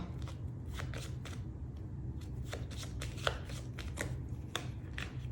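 Tarot cards being shuffled and laid down, a close series of crisp riffling and flicking bursts in an irregular rhythm, steady and fairly loud, with no talk.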